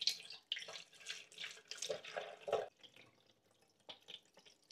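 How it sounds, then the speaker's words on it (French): Water poured from a 1-litre bottle into the clean-water tank of a Tineco S9 Artist floor washer, a quiet gurgling, glugging splash in uneven bursts that fade toward the end, nearby and alone. "je vais le remplir d'une bouteille d'eau d'1 litre"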